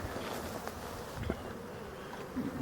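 Honeybees buzz steadily at a hive entrance in mid-October, a continuous close-up insect drone with no voices.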